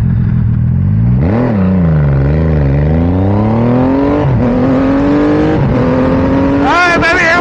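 Suzuki motorcycle launching hard down a quarter-mile drag strip, its engine note climbing loud and close, then dropping and rising again through a few quick gear changes over roughly seven seconds.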